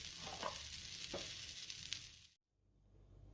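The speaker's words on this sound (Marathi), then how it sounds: "दुसऱ्या साइडने भाजले का ते पाहूया।" Thalipeeth made from fresh green chickpeas roasts in a pan, a soft steady sizzle with faint crackles that cuts out abruptly before a quiet hiss resumes.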